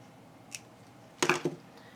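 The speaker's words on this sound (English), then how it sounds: "I have a little too much thread for this, so I'm going to cut it a little bit." Scissors snip beading thread a few times up close, a quick faint cut followed by a cluster of two or three sharp snips against a quiet room.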